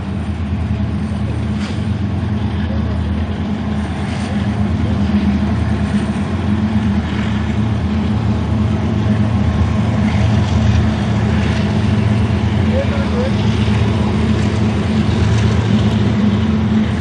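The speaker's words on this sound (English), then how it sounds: "It was a westbound Union Pacific mixed freight train as it was leaving Pine Bluff" Westbound Union Pacific mixed freight train leaving Pine Bluff, Arkansas, heard as a steady, loud low rumble and grinding roll that holds without pause, with no talk.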